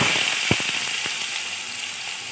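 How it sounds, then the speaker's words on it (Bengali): Vegetables frying in oil in a kadai for Bengali chirer polao, a steady close sizzle with a few sharp crackles and pops near the start, no talk. "সবজিগুলোকে ভালো করে ভেজে নিই"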